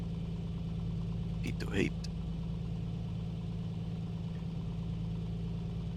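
A small aircraft engine idles steadily after start-up in Microsoft Flight Simulator 2020, a constant low drone throughout with a brief click and a short spoken word near the start.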